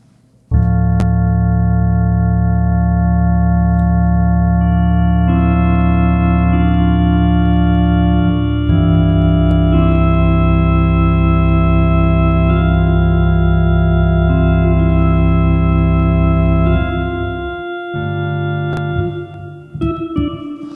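A loud, sustained dungeon-synth track with stock REAPER reverb plays thick held organ-like chords that shift every few seconds, ringing on with a smooth wash before thinning out near the end.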